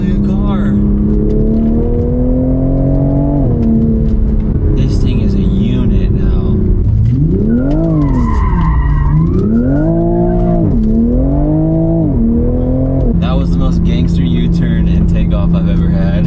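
A tuned Toyota Supra accelerates hard through third and fourth gear, its loud engine climbing in pitch, dropping at each shift and climbing again, with a voice speaking over it near the end.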